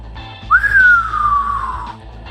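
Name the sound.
shrill high-pitched whistle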